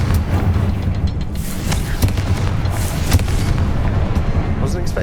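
A Confringo blast spell in Hogwarts Legacy detonates amid a loud, dense clash of booming impacts and crackling bursts, with a voice shouting over the rumbling low-end explosions.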